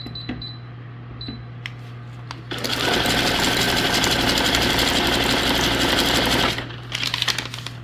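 Sewing machine zigzag-stitching paper junk-journal tags, a loud steady mechanical whir running for about four seconds after a few light clicks, then stopping into small handling taps.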